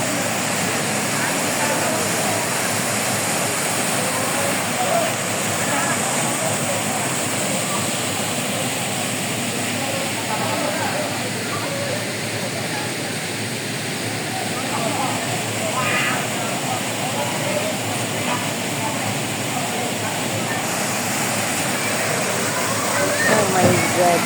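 A river rushes steadily in a broad, continuous roar of flowing water, loud and close, while people talk over it at times.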